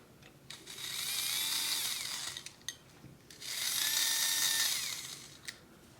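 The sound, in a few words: old Mego Fonzie toy motorcycle motor running on 9-volt battery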